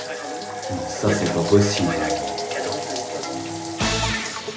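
Water from a shower runs steadily for several seconds, the kind of shower where a waterproof phone case would be used, with a voice speaking over the splashing flow.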